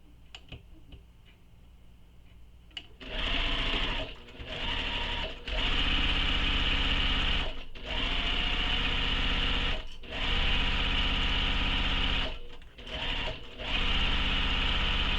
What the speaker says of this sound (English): we're going to sew along that edge using the seam allowance given in the pattern